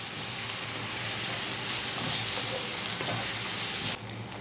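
Sausage stir-frying with tomato sauce in a pan, a steady close sizzle and hiss with faint scraping as it is mixed, running continuously before a brief shift near the end.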